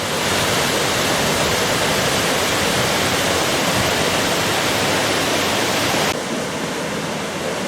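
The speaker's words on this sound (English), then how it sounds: "Water cascading over massive boulders, making that beautiful sound." Water crashing over massive boulders in a Glen Nevis gorge in Scotland, a loud, dense, steady roar that fills the whole clip, easing slightly near the end.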